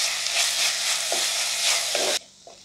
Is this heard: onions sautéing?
yes